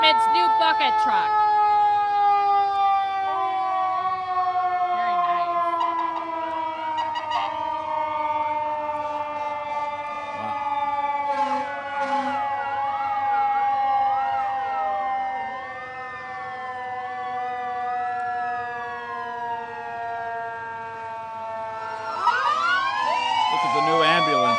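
A fire department bucket truck's siren wails through a 2010 street parade in Lansing, a steady rising-and-falling tone held for the whole stretch, with crowd voices and other parade noise mixed underneath.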